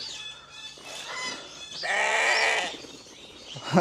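Several goat bleats, loud and close, one long wavering cry in the middle and shorter calls around it, with no talking.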